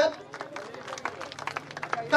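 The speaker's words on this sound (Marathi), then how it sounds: "त्यांच्यासाठी एकदा जोरदार टाळ्या होऊन जाऊ द्यात" Audience applause at a women's gathering in Sai Ambika Nagar, Shirdi, a brief patter of many hands clapping under a crowd hubbub, fairly close.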